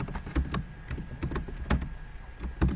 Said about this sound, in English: I'm just typing a hello world,